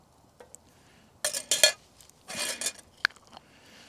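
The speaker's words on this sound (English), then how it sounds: "Yes, I'm cooking eggs in a titanium fry pan." Lard going into a titanium fry pan on a small PicoGrill 680 stove for cooking eggs, heard as a few close metallic clinks and scraping clatters of a utensil against the pan in short bursts, with brief quiet gaps between.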